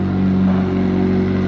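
A loud, close McLaren 765LT supercar engine rumbles and revs with a deep steady drone, swelling briefly as it begins to move.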